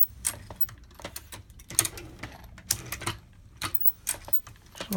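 A Lee Auto Breech Lock reloading press fitted with a Hornady bullet feeder runs up close, making rapid, irregular mechanical clicks and clacks as parts cycle, with no voices over it.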